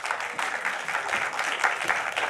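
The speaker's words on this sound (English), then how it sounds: "Round of applause," Steady, dense applause from a festival audience welcoming panelists on stage, a full room clapping continuously at moderate loudness with no talk over it.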